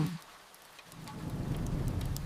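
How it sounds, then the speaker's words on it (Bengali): Rain falls steadily, a soft broadband patter that swells after a quiet start and stays faint and distant throughout, with no voices. "আজ খুব বৃষ্টি হচ্ছে"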